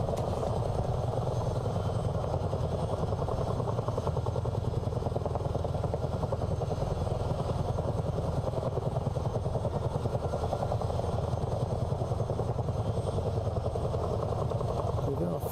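Steady, loud rotor thump and engine drone of a Chinook CH47 helicopter flying in Microsoft Flight Simulator, continuous and unchanging throughout, with someone talking over it.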